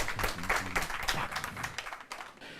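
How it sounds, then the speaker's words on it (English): An audience at a university law debate contest claps in a short round of applause, heard with a voice mixed in over the uneven clapping, thinning toward the end. "A round of applause for them."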